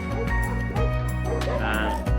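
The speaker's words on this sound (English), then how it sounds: "dogs are barking now" Several dogs at a dog shelter in Romania bark and yip repeatedly in a loud, dense chorus, close by, over a constant background din.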